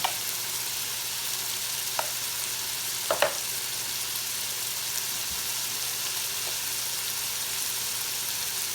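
Garlic, ginger, salt, pepper and a spicy red garlic sauce frying in a pot for chicken biryani. A constant, even sizzle is broken by a few small clicks and taps.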